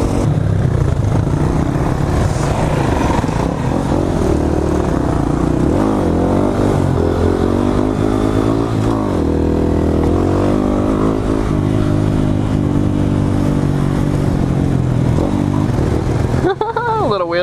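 A motorcycle engine revs hard and steadily during a wheelie on a Dutch street ride, close and loud throughout, with throttle swells and a sharp rev climb at the end, while voices talk over it.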